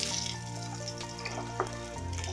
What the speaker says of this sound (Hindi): तेल डाल के और प्याज ब्राउन कर लेते हैं